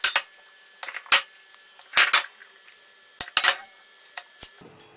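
Eggs being stirred for dumplings in a bowl, a series of close, light clinks and taps of a utensil against the dish in irregular rhythm, with quiet pauses between.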